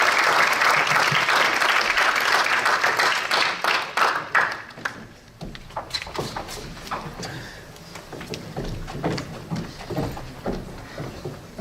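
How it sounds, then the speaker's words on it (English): An audience applauds, loud steady clapping at first that thins out into scattered individual claps toward the end. "Let's give her a round of applause"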